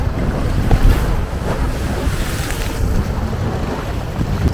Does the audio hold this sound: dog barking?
no